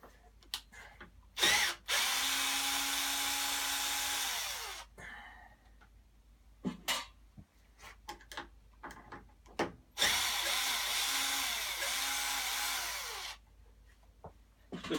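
A cordless drill driver, shown during a £5 lawnmower restoration, runs in two long, steady whirring bursts of a few seconds each, separated by short clicks and handling noises, with no talking.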